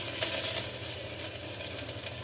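Chopped garlic cloves sizzle in hot oil with cinnamon, cloves and a bay leaf in a pressure cooker, a steady close crackling hiss that runs throughout without talk.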